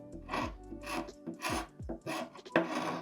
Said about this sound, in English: I'm just using my scraper to scrape that off.